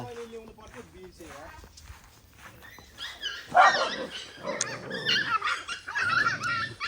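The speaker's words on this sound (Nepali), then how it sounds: "यो चाहिँ कुकुरहरू छ, धेरै कुकुरको बच्चाहरू।" Puppies whine and yelp in high-pitched bursts alongside a dog, close by, while a person talks over them.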